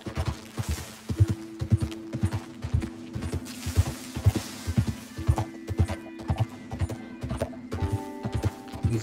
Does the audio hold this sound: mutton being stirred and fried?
no